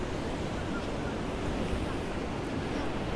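Rough sea surf pounding the shore at Ciudad Jardín, Palma de Mallorca, with onshore wind blowing steadily; a loud, continuous roar of breaking waves and gusts buffeting the microphone, no voices.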